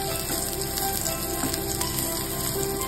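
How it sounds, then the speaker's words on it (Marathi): Crabs fry in a pan with a steady, close, even sizzle and crackle that holds throughout without pause. "ही साईड सुद्धा ना छान अशी फ्राय झालेली आहे बघा।"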